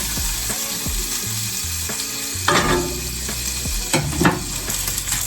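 Salmon fillets sizzle steadily while frying in a pan, a continuous crackle with occasional louder bursts and utensil clinks, close and without talk.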